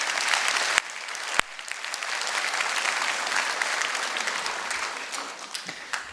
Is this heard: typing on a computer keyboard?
no